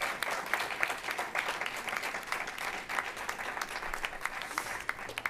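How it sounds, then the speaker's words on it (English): A ceremony audience applauds at a school first-in-course awards event, with dense, steady clapping from many hands continuing evenly throughout. "You've been clapping a lot, but let's keep it going one more time."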